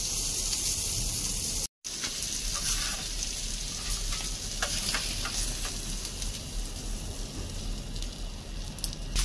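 Fish frying on a tawa in oil outdoors, a steady dense sizzle and crackle running throughout with a brief dropout near the start, close and even in level.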